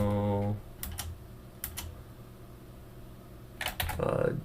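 A few scattered keystrokes tap quietly on a computer keyboard as commands are entered, sparse clicks over a faint fan hum, with a voice speaking briefly at the start and end.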